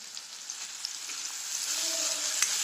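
Garlic frying with onions in a pan for dhaba-style masala methi bhaji, a steady close sizzle with faint crackles.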